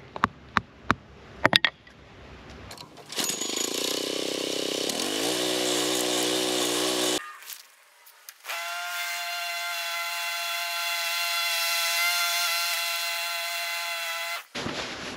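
A small engine-driven lawn mower cuts grass in a yard, roaring loud and close with shifting pitch. The engine drops off briefly in the middle, then settles into a steady drone before cutting out, with a few sharp knocks at the start.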